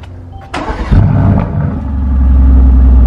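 A car engine fires up with a sharp burst, then revs hard and settles into a loud, deep, rumbling idle that swells again, close by.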